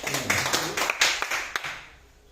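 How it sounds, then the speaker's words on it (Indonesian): An audience claps after a teacher's presentation at a training session, with scattered, uneven handclaps rising briefly and fading out within a couple of seconds. "kita berikan aplaus yang meriah untuk"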